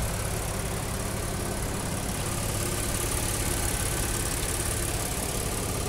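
The 3.0-liter six-cylinder engine of a Ford Raptor idles with a steady, even rumble, close up and continuous throughout with no voices over it.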